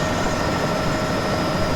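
A Bell 206B3 JetRanger helicopter in a flight simulator game hums as a steady, loud turbine and rotor whine, constant and alone for a brief moment.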